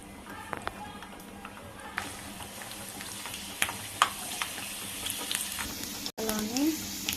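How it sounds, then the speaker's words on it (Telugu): Mustard seeds and garlic fry in hot oil in a pan, a continuous sizzle with small pops and crackles, close, while a voice talks over the cooking. "ఇప్పుడు ఆవాలు వేసుకోవాలి. తెల్లగడ్డ వేసుకోవాలి"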